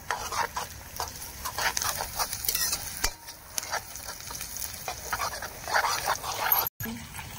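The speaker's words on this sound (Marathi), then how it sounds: "आता टाकूया लसूण कुटलेला, आता मिक्स करून घ्यायचं" Crushed garlic being stirred into chicken biryani in a pot on a wood-fired stove, with soft scraping and stirring strokes over a faint sizzle, moderately quiet and without talk.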